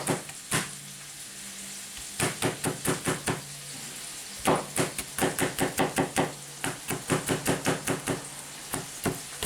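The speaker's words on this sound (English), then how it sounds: "chop them up small." Crushed garlic chopped up small with a cleaver on a board, sharp close knocks in quick bursts of rapid strokes separated by short pauses, over a faint sizzling background.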